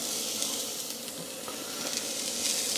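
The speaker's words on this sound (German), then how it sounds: "Und die dünste ich jetzt da drinnen einfach ein bisschen an" Onions sautéing in a Dutch oven, with a close, steady hissing sizzle running throughout and no voice.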